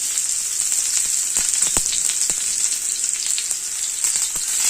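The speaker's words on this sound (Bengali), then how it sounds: "এই লঙ্কাগুলো দিয়ে দিলাম একটু ভালো করে এগুলোকে মানে কী করতে হবে ভালো করে ভাজতে হবে" Onions and green chillies fry in a pan, giving a steady, close sizzle throughout with sharp crackles and pops scattered on top; no one speaks.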